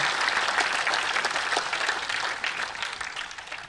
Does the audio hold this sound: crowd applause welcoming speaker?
yes